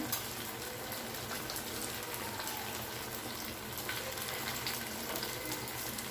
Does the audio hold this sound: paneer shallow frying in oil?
yes